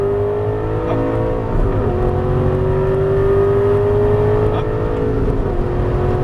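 An Aston Martin V8 Vantage S accelerating on a race track, its engine note holding a steady, rising drone heard from inside the car, loud and continuous with no speech.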